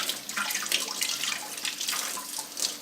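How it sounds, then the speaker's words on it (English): Water runs from a kitchen tap over shrimp being rinsed, with a steady splashing patter and brief brighter bursts as the flow strikes the shrimp, fairly quiet and with no talk. "I start rinsing it to help me clean the shrimp"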